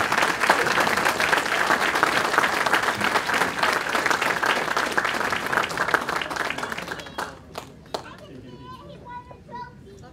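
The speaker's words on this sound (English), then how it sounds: "Once again, a nice round of applause for Marco Garcia." A Hall of Fame award audience gives a long round of applause, dense and loud at first, then thinning to a few scattered claps and children's voices near the end.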